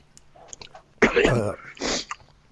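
Two harsh, explosive coughs close to the mic, a longer burst followed by a shorter one, with faint background sounds between.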